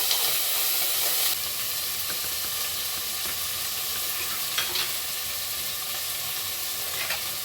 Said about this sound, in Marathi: कांदा परतलाय आता.